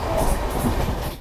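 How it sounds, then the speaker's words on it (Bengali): A passenger train runs along the track, heard from inside a sleeper class coach as a loud, steady rumble with faint clickety-clack of the wheels. "ট্রেনের আমরা যে কোচে যাচ্ছি সেটা হলো স্লিপার ক্লাস।"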